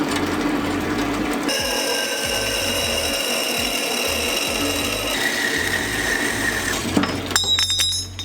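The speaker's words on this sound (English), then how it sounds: "We just have to flush cut this piece off with this plate" A steel bar being flush cut off a steel plate during a twin-turbo LS swap on a Mustang: a steady, loud, close grinding whine runs throughout, shifting pitch partway and ending with harsher scraping bursts.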